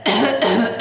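Two loud, harsh open-mouthed coughs, close and alone, forced by a voice imitating someone coughing without covering their mouth.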